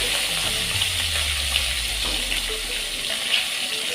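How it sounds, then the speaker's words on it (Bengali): Fish heads fry in oil with a constant bright sizzle over a low, rumbling hum, close and fairly loud, and no one speaks throughout. "তো মাছের মাথাগুলো এইভাবে ভেজে নিতে হবে"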